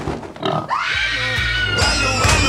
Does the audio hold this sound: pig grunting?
yes